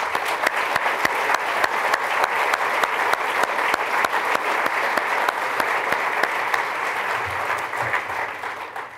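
Audience applause for graduates at a fall ceremony, steady sustained clapping from a large crowd that holds evenly and tapers slightly at the end.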